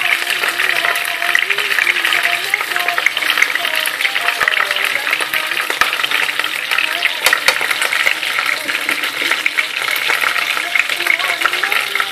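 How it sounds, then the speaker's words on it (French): Pieces of bread frying in oil for chicken fatteh, a dense crackling sizzle that runs steadily throughout with rapid popping, loud and close, no voices over it. "je suis à ma deuxième partie de pain que je fais revenir dans de l'huile"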